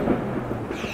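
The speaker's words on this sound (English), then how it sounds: "Loads of thunder and lightning" Thunder rolls during a storm, a low, steady rumble that fills the short moment with no voices over it.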